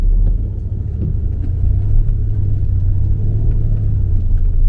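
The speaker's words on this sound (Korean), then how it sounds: "여기에다가 악셀을 세게 한번 밟아 봅니다" SsangYong Rexton Sports pickup, lifted 3.5 inches at the front and 3 inches at the rear, accelerating hard up a slight incline, heard from inside as a steady, loud low engine rumble with no talking.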